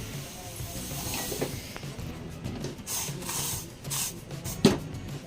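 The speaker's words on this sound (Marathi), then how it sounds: "आपला चहा उकळतोय" Tea boils in a pan on a home kitchen stove, giving a steady, fairly faint hiss with soft bubbling and a few small clicks and knocks throughout.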